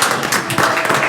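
Audience at a county school board meeting breaks into applause, a dense, loud wash of clapping filling the short moment with no talk over it.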